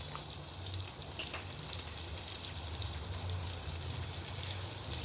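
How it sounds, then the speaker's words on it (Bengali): Chopped onions frying in chicken-flavoured oil with whole spices give a steady, close sizzle that crackles on evenly for the whole stretch, with no talking over it. "অ্যাড করে দিলাম কুচোনো পেঁয়াজ।"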